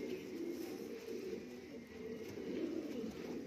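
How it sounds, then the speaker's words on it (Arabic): Homing pigeons cooing steadily in a loft, a soft continuous low murmur of several birds at moderate distance with no talk over it. "بص زغلولين حمام ده"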